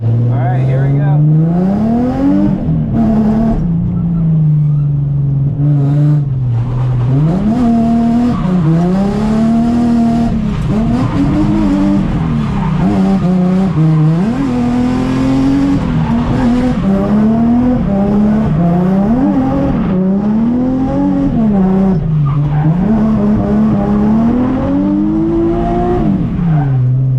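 A drift car laps a slick track at an abandoned power plant. The engine is loud and close, revving up and down in repeated swells, with tire squeal and skids as it slides through the corners.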